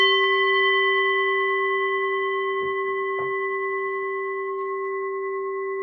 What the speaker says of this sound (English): we started, so let's ring the bell.